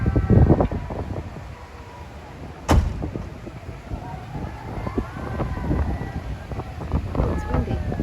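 Wind gusting steadily near the tall ship Sorlandet on a river with tugboats, a loud rumbling roar buffeting the microphone throughout, with one sharp knock partway through.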